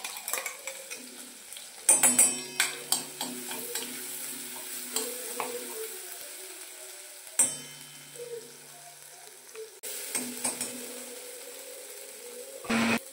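Garlic, green chili and ginger paste sautéing in hot oil, a steady soft sizzle broken by several sharp metallic stirring scrapes and clinks of a spoon against the pan, with no talking.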